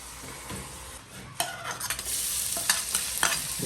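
Squid being stirred and fried in a pan with onion, garlic and tomato for adobo, a steady close sizzle broken by scraping spatula strokes against the pan.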